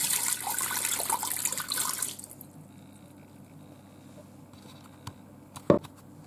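Water, about a cup and a half, poured into a Ninja Foodi pot for frozen wings, a bright splashing pour for about two seconds, then quiet with a few faint clinks and a sharp knock near the end.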